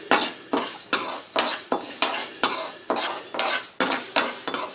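Lentils dry-roasting in a pan for idly powder, stirred in quick rhythmic scraping strokes, about three per second, each a sharp gritty rattle against the metal, close and alone.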